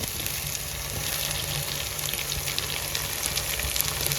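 Tomatoes going into a pan of onions and chilies, frying with a steady close sizzle and some stirring, no talk.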